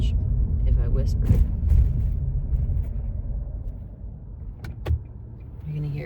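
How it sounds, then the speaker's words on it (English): A car drives along a road early in the morning, giving a continuous low rumble of engine and tyre noise with a few brief clicks and thumps inside the cabin. "You're going to hear car sounds."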